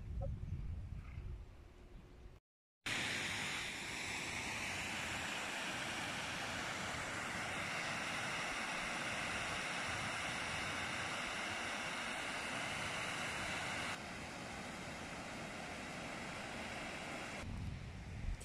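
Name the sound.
waterfall in the Pyrenees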